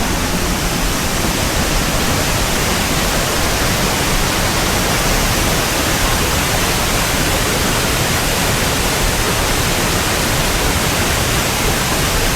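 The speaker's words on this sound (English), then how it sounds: "I like the sound of the echo, the water hitting the wall that coming down off of the granite surface of the wall." Water cascading down and splashing against a granite wall, a dense, loud, unbroken roar of falling water with echoing wash and no pauses; no voices.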